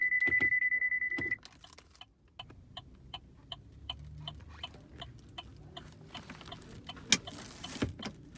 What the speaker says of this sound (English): What you hear now are the parking sensors.